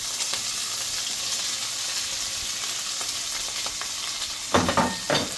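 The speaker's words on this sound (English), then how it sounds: "Now we're going to add in our pepper mixture" Peppers and green onions sizzling and frying in a hot pan, a steady close hiss, with a couple of louder crackling stirs toward the end.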